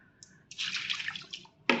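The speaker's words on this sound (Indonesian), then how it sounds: "Ini airnya saya buang dikit karena agak penuh." Water poured out of an overly full container while preparing a herbal extract for rice seedlings, a short splashing pour in close bursts with a brief final splash.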